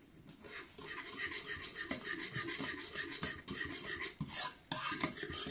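A wire whisk stirs gingerbread dough in a bowl, giving a close, continuous rhythmic scraping and clinking against the sides with frequent small metallic knocks.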